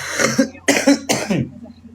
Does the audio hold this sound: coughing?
yes